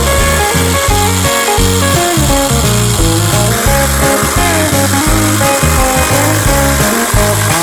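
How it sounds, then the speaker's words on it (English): A jigsaw cuts through a faux shiplap board around an electrical box, loud and close, its blade chattering in a fast rhythmic buzz that holds steady throughout. "insert the jigsaw blade into the hole, and then that's how you would cut out the shape"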